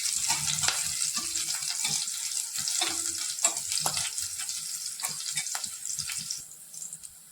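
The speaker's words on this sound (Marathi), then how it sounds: "मिरच्या छान तळून घ्यायच्या आणि तळताना चिमूटभर मीठ टाकायचं." Green chilies frying in hot oil with a pinch of salt, a steady close sizzle with crackles and scattered pops, and occasional stirring clinks from the pan, fading slightly at the end.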